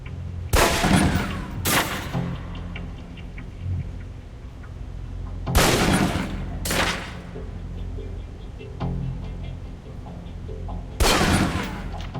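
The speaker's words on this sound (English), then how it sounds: "Equip the pistol, then aim down range and take some shots at the target." Pistol shots fired down range at a target in the Alpha Protocol video game, three sharp, loud reports spaced a few seconds apart, each crisp crack followed by a short decay over quiet room tone.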